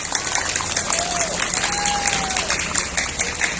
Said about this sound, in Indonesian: Tepuk tangan untuk ibu-ibu wali murid.